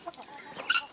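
Short, harsh squawks from guinea fowl, a few rapid calls at moderate distance with a louder cluster near the end.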